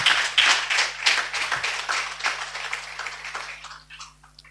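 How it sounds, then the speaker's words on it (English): Steady applause from a crowd, dense clapping that swells early and gradually thins toward the end. "I would like you put your hand together and give a big applause to receive here Dr. Brooke, Doctor at English."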